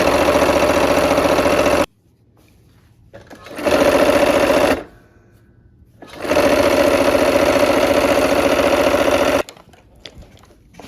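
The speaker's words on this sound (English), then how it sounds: "We're gonna put our needle down and just keep going. Sew the other side border on now." A sewing machine stitches a quilt border in three loud, steady runs of rapid mechanical whirring, broken by brief pauses of near silence.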